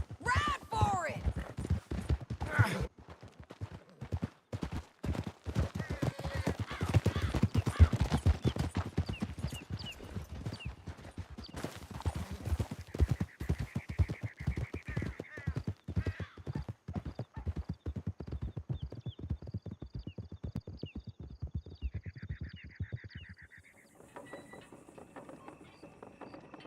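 Horses galloping through a canyon in a video game: rapid, loud hoofbeats drum steadily for most of the stretch, with a whinny, then they thin out and give way to quieter mechanical tones near the end.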